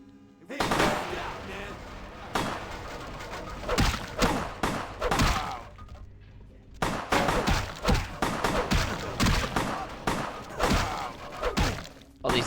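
Gunfire in Vampire: The Masquerade – Bloodlines, repeated loud shots in irregular bursts with thuds and impacts, coming close together across the scene with a short lull in the middle.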